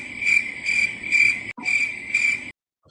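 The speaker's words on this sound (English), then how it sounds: "I had the crickets going" A cricket chirps in a sound effect, loud and close. Its trilling comes in steady pulsed bursts, cuts out briefly, then resumes before stopping. No voices are present.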